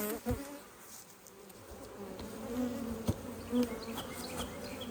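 A dense, steady hum of many bees buzzing close by in a hive being split, soft and continuous, with occasional louder individual buzzes passing near.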